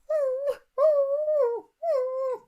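A voice imitates a dog with three drawn-out, whimpering howls that slide in pitch, heard close and alone with short pauses between them.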